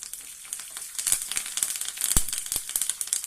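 Chopped curry leaves crackle and pop sharply in a tempering of hot oil with urad dal, mustard seeds, cumin and dried red chillies, close and lively bursts over a frying hiss, no talking.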